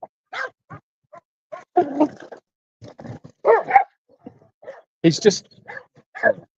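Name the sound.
dog barking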